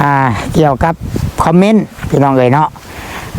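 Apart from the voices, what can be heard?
None of the usual background noises is heard.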